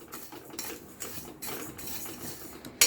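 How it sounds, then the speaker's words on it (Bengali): A spoon stirs tea leaves in a pot on a low gas flame, making quiet, repeated scraping and clinking against the metal at close range. A sharper clink comes at the end. "আর আমি দেওয়ার পরে এটা নাড়িয়ে নিচ্ছি এইভাবে।"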